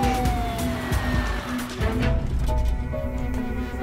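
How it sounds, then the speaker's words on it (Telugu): An ambulance siren wails in falling sweeps through busy road traffic, partly masked by rumbling engines and general street noise. "అంబులెన్స్ దారండి"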